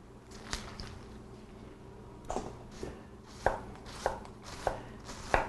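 A knife chopping through a cabbage on a cutting board, a few sparse thuds then a run of sharp, close cuts at a steady pace, no voices.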